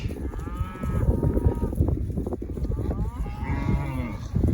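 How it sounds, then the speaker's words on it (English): Several cows moo loudly and close together, overlapping low calls over a busy barnyard rumble of shuffling and movement. "Mostly cows so far, then a lot of calves in the back."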